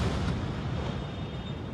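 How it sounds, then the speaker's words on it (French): Dense, rumbling booms and crackling bursts from a distance as Israeli air defense destroys Iranian missiles, blending into a continuous roar, loud and sustained without distinct gaps. "ce que vous entendez, c'est les missiles iraniens qui sont en train d'être détruits par la défense antiaérienne israélienne"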